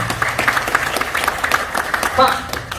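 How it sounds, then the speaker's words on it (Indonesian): Applause from the audience at a seminar, rhythmic clapping running under an amplified voice that keeps talking over it. "Tepuk tangan buat Bapak Ibu ya."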